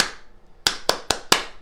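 Four sharp hand claps in a quick, slightly uneven rhythm, close and crisp, tapped out as a short body percussion pattern for kindergarten children after a brief quiet moment.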